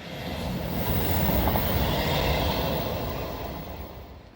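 A train rumbles past nearby at Dawlish in a steady, loud roar that swells and then slowly fades, with no talking over it.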